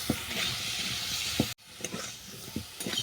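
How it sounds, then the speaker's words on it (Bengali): Spinach with cumin paste sautés in a pan, making a soft sizzle with scattered scraping stir sounds and a brief pause midway. "এটাকে আমি আরও 2 মিনিট কষে নিচ্ছি।"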